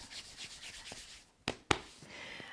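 Hands sweeping and rubbing across a partner's back during seated Thai yoga massage, soft repeated brushing strokes close up with a couple of sharper louder swipes near the end, no talking.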